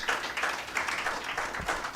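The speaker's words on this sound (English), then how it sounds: "Let's clap for Madam Terry again." Audience applause at a MindFest 2021 mental health event, steady dense clapping from a crowd, moderately loud and continuous without talk.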